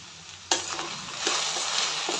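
Okra (ladies finger) fries in a pan with a bright, continuous sizzle, punctuated by a few sharp stirring knocks as the pieces are moved around, close and loud with no voices.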